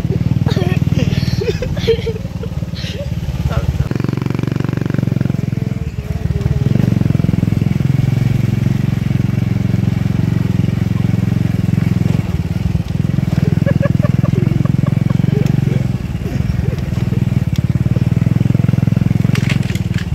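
A motorcycle engine rumbles steadily up close, idling and revving unevenly for a long stretch, with people talking faintly over it.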